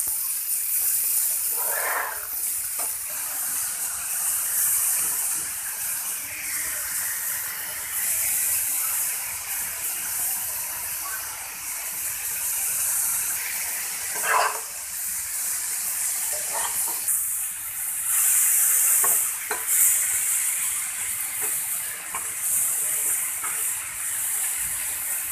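Boiled spinach cooking in a pan, a continuous loud hissing sizzle with steamy spray that holds steady throughout and has a few brief clatters, with no talk.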